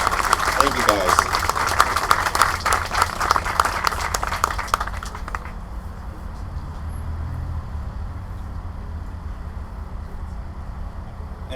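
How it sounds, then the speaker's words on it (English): An audience at a data center ceremony in Orlando bursts into loud, crowded applause for about five seconds, then it dies away into a quieter room murmur as people start talking. "Please give them a round of applause."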